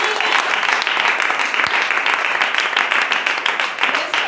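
Church congregation applauding during a Hindi-language sermon, a dense, loud wash of many hands clapping continuously throughout, with no voices over it.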